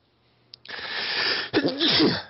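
A single sharp human sneeze bursts out close to the microphone after a brief quiet, followed by a rough throaty exhale, indoors during casual board-game chat.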